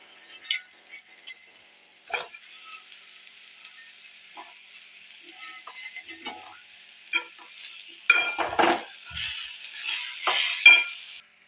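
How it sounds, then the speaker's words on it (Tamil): Fried elephant foot yam pieces are turned through a ginger-garlic masala in a pan with a soft hiss, broken by scattered scrapes and clicks of a spatula that grow louder and busier toward the end. "இந்த மசால் வந்து சேனக்கிழங்கு எல்லாத்துலேயுமே படுற மாதிரி நல்லா ஒரு திருப்பு திருப்பிக்கலாம்"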